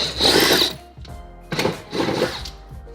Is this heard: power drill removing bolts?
yes